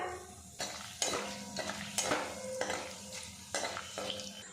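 Two dried red chillies, two cardamom pods, an inch of cinnamon and two cloves sizzle in hot oil for an aloo dum tempering, a quiet hiss repeatedly broken by scraping stirs against the pan.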